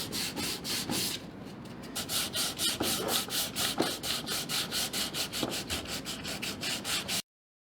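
Wooden desk handles being hand-sanded, a steady rhythmic rasping of back-and-forth strokes, close and fairly even, continuing for several seconds before cutting off abruptly.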